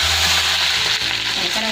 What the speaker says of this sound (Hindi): अब हमने तड़का लगाना है, तो दाल पे हम तड़का लगाएंगे।